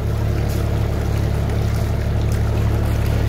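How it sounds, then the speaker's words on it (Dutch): A canal tour boat cruising on the water in Bruges gives off a steady, low engine drone with a continuous wash of water, even and unbroken throughout, with no voices. "Dus we zitten samen op de boot voor de komende 30 minuten."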